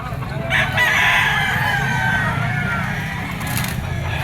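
A young yellow-legged gamefowl stag, a White Kelso Firebird line, crows once loudly and close by, its long wavering call held for about three seconds over a low rumble of background noise.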